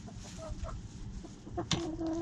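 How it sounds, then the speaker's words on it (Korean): Hens cluck softly in short bursts, close by, with a few sharper squawks toward the end. "이제 놀부는 보호해야 할 암탉이 6마리나 생겼으니"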